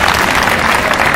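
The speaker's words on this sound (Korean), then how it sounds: "다시 한번 큰 박수 부탁드리겠습니다" Loud, dense audience applause fills a Korean memorial concert held outdoors in front of Daehanmun, sustained and even throughout with no voices above it.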